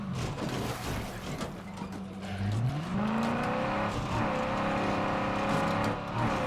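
Car engine in the State of Decay 2 video game, a steady drone that revs up and holds a higher pitch as the vehicle speeds along, loud and continuous with no talk.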